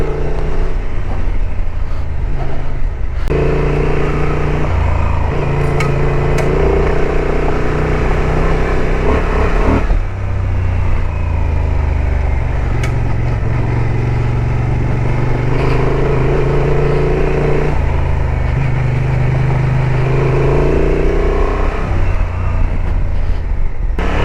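A Honda XL750 Transalp motorcycle rolls slowly off-road over muddy gravel, its engine a steady, close low drone that runs continuously, with a brief dip near the ten-second mark.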